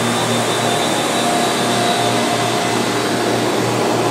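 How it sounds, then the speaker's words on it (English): A Studer S145 five-axis CNC precision cylindrical grinder runs with a loud, steady, unbroken whirring drone and faint tonal hums, with no voices over it. "a video presentation of the Studer S145 CNC precision grinder."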